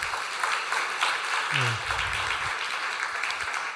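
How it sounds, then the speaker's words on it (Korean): Church congregation applauding children moving up to the next Sunday school class at a year-end service, steady sustained clapping from a large crowd throughout, with a brief spoken word over it. "우리 전달할 때 큰 박수로 축하해 주시면 감사하겠습니다."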